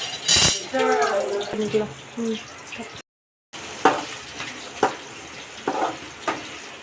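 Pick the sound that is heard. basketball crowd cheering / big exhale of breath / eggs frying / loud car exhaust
eggs frying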